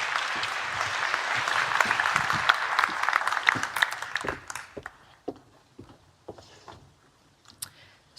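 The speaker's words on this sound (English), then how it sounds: "If we could have a big round of applause for Sophie Coley, please." Applause from a conference audience for a speaker coming on stage: dense, loud clapping that thins out after about four seconds into scattered last claps.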